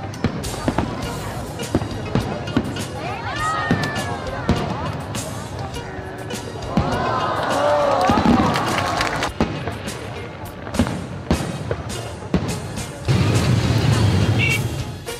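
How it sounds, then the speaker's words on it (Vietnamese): New Year's Eve fireworks over a street crowd in Saigon: sharp bangs and crackling bursts recur through the scene amid a dense, continuous murmur of people and traffic, with a loud stretch near the end. "thiên hạ đổ xô ra đường xem bắn pháo bông đón giao thừa"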